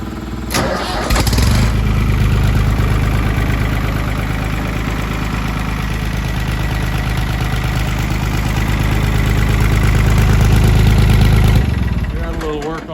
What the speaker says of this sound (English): This thing also has a 3-cylinder diesel in it. It runs really good.